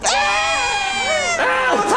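Several voices scream and wail in a continuous, loud, close outburst during a frantic escape in a comedic puppet movie, with sweeping pitch rises and falls and a fresh shriek near the end.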